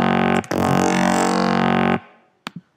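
Layered growl bass synth patch built in NI Massive, a loud, thick, buzzing sustained note lasting about a second and a half, followed by two brief quieter blips.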